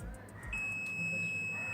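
A multimeter on continuity range sounds a continuous high-pitched buzzer tone across a shorted diode in an antenna splitter, starting abruptly and holding steady after a few faint clicks.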